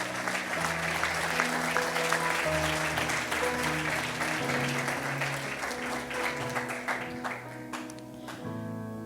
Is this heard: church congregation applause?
yes